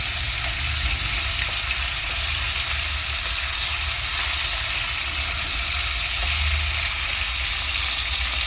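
Bhola river fish frying in oil in a nonstick pan, a steady, loud, continuous sizzle and hiss with no pauses.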